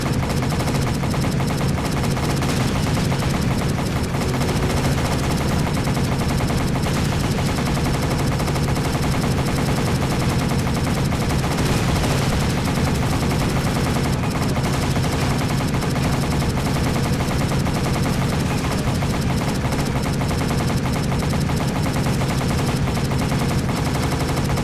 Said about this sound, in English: if you see a bunch of enemies nearby before you get on the machine gun